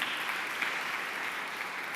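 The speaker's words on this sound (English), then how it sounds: "let's all give another round of applause to Perry." An audience applauds a speaker at a design conference, a steady, even roar of many hands clapping at once, filling the whole moment without pause.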